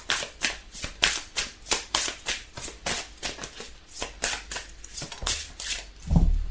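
A tarot deck is handled and shuffled by hand, giving a steady run of about fifteen crisp papery riffles in an even rhythm, close and fairly loud, with a soft thump at the end and no voice.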